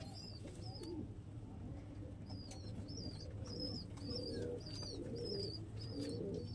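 Pigeons cooing at a home loft, including a ten-year-old bird of a flying breed, with repeated low coos through a steady backdrop and small birds chirping higher over the top throughout.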